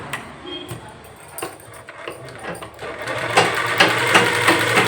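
A sewing machine stitching a blouse sleeve, its motor running in a steady mechanical whir that grows louder and busier toward the end, with no talk.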